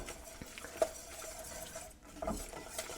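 Brown butter crust mixture is stirred in a pot, giving a steady soft scraping and stirring with a few light clinks of utensil on the pan. It sounds close and moderately quiet, and nobody speaks.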